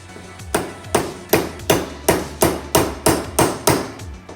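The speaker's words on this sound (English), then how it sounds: "I'll try to get it hammered in the rest of the way" A hammer drives a part into an AR-15 rifle build with about ten sharp, evenly spaced metallic strikes at a brisk steady rhythm, close and loud, with no talk.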